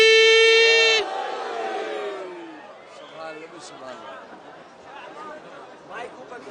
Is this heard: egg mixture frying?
no